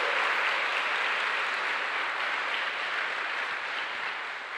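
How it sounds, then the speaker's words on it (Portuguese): Congregation applauding during a Catholic sermon, a steady broadband wash of clapping throughout, fairly distant and even in loudness, with no talk over it. "Pode aplaudir, pode aplaudir."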